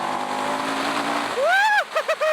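Engine of a 2023 CFMoto 700 CL-X motorcycle runs at high RPM with steady broadband drone and wind, then climbs in rising and falling revving sweeps; a voice is also present.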